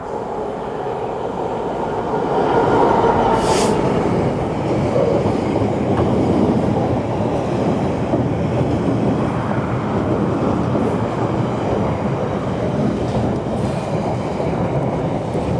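A train runs along the railway line, its wheels rumbling and clacking steadily nearby, with a brief sharp hiss early on and no talk over it.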